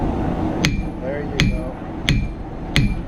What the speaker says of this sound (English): Back that hammer up just a little bit.